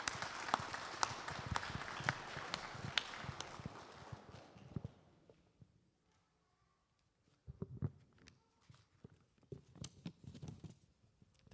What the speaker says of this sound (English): please give Uncle Neil a round of applause.